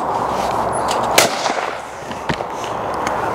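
A single sharp shotgun blast from a hammer gun cracks out outdoors over steady wind and background noise, followed by a fainter second report about a second later.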